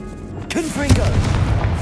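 A Confringo blasting spell explodes in the Hogwarts Legacy video game, a single loud, close boom that rumbles and fades over a second or so.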